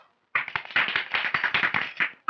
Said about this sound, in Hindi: बच्चा लोग तालियां बजाओ।